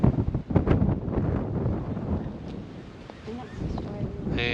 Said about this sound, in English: There's even wind blowing.